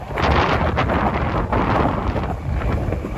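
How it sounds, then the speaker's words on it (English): Strong wind buffets the microphone in a riverside park on Manhattan's Upper West Side at sunset, a loud continuous roar with gusty surges throughout and no talking. "the wind is nuts."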